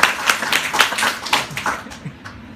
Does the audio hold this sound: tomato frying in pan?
no